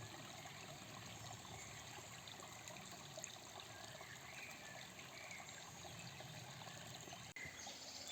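Water trickles and babbles steadily in a small stream, a soft continuous gurgle with faint background ambience.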